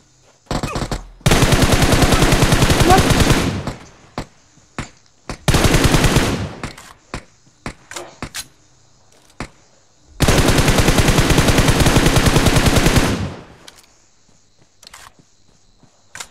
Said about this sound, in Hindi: चारों तरफ से फायरिंग हो रही है